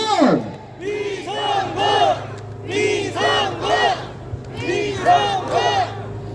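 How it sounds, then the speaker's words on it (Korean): A large crowd at a Korean National Assembly election rally in Seogwipo shouts in loud, rhythmic chant bursts for a candidate, voices in unison rising and falling several times close by. "우리의 자랑스러운 일꾼 국회의원 후보를 뜨겁게 박수로 맞이해주시기 바라겠습니다."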